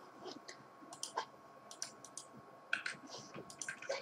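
Computer mouse clicking while working in Avizo image-analysis software: a quiet, irregular run of light, crisp clicks spread across several seconds, heard alone against a soft background hiss.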